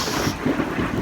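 Thunder and rain at a house during a thunderstorm, a loud deep rumble rolling steadily over the constant hiss of falling rain, close and filling.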